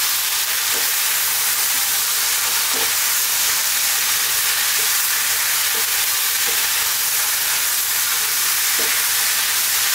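Ground turmeric, chili, coriander and cumin spices frying in a curry pan with tomatoes, giving a steady, loud broadband sizzle throughout, with a few faint stirring knocks and no talking.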